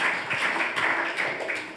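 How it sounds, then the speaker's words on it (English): An audience at a poetry recital claps in a brief burst of applause, a quick patter of overlapping hand claps heard close and fairly loud. "So I think that deserves a round of applause."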